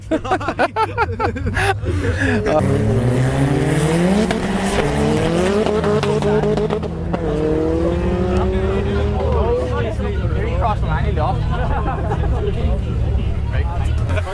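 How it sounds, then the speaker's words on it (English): A supercar engine roars and revs loudly, exhaust exiting through the bonnet, pitch climbing and falling repeatedly with tire squeals, continuous and close, over a busy background with voices. "I love the exhaust, it's coming out of the bonnet."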